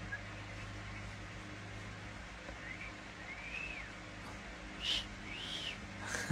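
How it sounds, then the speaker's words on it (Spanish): A man whistling outdoors, faint, wavering rising-and-falling whistle notes over a steady low background hum, growing a little stronger toward the end. "Ahorita sí se chifló bien."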